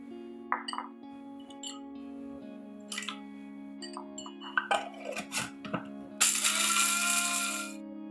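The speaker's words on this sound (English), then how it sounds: "grind them in my dedicated spice grinder whenever I need them" Whole spices clink and rattle into a dedicated electric spice grinder over a low hum, and then the grinder whirs loudly for about a second and a half as it runs.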